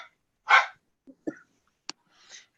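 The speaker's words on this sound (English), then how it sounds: "We hear you loud and clear. Bark. Bark, bark. I've missed that bark." A dog barks a few times close by in a quiet room, one strong bark followed by shorter, softer yips and a sniff, each separated by silence.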